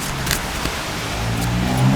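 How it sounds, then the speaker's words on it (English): Road traffic on a rainy day, a continuous loud wash of tyre hiss and engine rumble from passing cars, with a vehicle swelling slightly louder toward the end. "The rain actually makes the traffic seem much louder."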